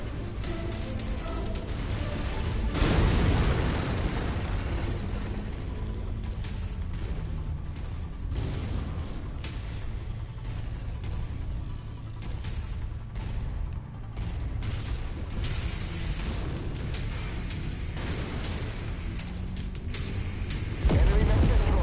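Mech combat in Mechwarrior 5 Mercenaries, with heavy booms and explosive blasts, a big rumbling burst early on and another near the end, over continuous rumble and crackling weapon fire.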